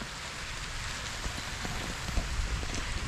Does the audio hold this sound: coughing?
no